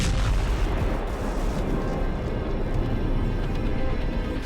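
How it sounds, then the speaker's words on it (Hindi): Explosion from a strike on a building, a dense sustained roaring blast rumble that stays loud throughout the short stretch with no pauses. "धमाके से खामेनेई वाली बिल्डिंग की जगह बड़ा गड्ढा दिखाई दिया।"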